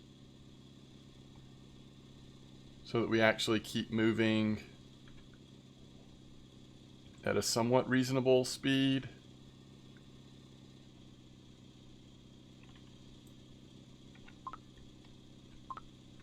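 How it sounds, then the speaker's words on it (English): A boat engine in Russian Fishing 4 idles as a low, steady hum beneath the whole scene, while someone talks over it in two short stretches. "We could turn the engine on"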